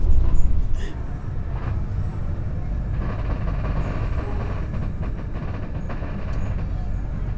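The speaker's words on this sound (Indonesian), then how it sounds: "kereta api Dharma Wangsa sudah tiba di jalur 4 stasiun Cirebon Perujakan" The Dharma Wangsa passenger train rumbles steadily nearby with a rolling, rattling low roar and faint clatter, slowing into track 4 at Cirebon Prujakan station.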